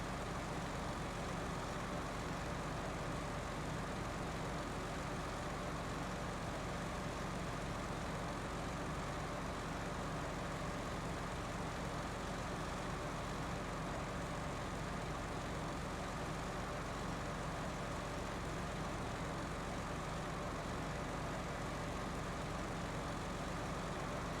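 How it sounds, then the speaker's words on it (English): Loud truck driving in a farming video game, a constant low engine drone that stays steady and unbroken throughout, with no talk over it. "we are driving a truck that's extremely loud right now"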